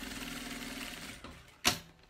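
A sewing machine runs a short stitching burst on a bag lining seam, a steady rapid mechanical whir that ends in a sharp click, quiet and close.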